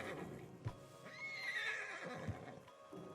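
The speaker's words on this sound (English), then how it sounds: "Marston, you're gonna tether him up to Javier's horse." A horse neighs in Red Dead Redemption 2 as it is tethered to another rider's horse, a rising whinny in the middle of the clip over low ambient game noise with a couple of soft thuds.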